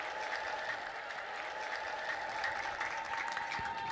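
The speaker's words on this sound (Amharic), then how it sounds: "ስለዚህ እልል ብላችሁ አመስግኑልኝ" A church congregation at a healing-testimony gathering applauds steadily, with a sustained high ululating tone running through the dense clapping for several seconds.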